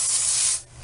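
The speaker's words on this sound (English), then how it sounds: "I like the spray because it kind of targets exactly where you want it to go." Hair root-lifting spray mousse hisses from a spray can in one short, close burst that stops abruptly, with no talking.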